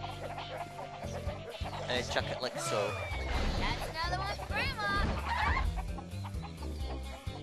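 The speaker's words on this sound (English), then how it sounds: "You've got to stun the chicken" Chickens cluck and squawk in the Shrek 2 PS2 video game as one is stunned, picked up and thrown, busy game sound effects and music beneath someone talking over the play.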